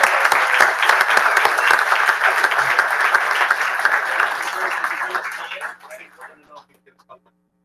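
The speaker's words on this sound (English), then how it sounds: "So we give Kenny a big round of applause." A city council meeting audience gives a departing community member a big round of applause, a loud, sustained crowd clapping that holds steady and then tapers off into a few scattered claps and near silence at the end.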